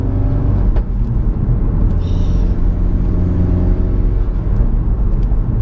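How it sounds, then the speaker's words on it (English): Ford Focus RS Mk3 hot hatch with a newly replaced engine, heard from inside as the engine pulls and the turbo spools up with a faint rising whistle over a loud, steady low drone. "See the turbo just spooling up."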